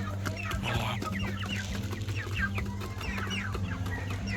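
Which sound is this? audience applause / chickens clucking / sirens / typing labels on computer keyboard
chickens clucking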